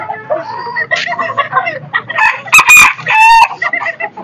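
Chickens at a farm close by, loud clucking and squawking in quick bursts with a rooster-like crow cutting through, several birds calling over one another.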